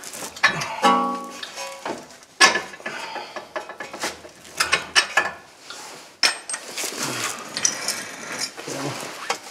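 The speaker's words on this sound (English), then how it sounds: "Take this bottom bolt out." Mechanic loosening and removing the lower strut bolt on a 2006 Honda Odyssey front strut, with bursts of ratchet clicking and sharp metallic clanks of tools and parts, close up and irregular, no speech.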